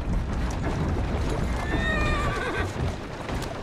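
Horse in the Assassin's Creed Syndicate video game gives a clear rising-and-falling whinny over a steady rumble of hooves and movement, close and loud.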